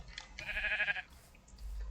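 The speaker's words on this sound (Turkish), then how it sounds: "Ne yapıyorsun koyuncuk?" A single Minecraft sheep bleat, wavering and nasal, rising up clearly before trailing off, followed by a soft low rumble.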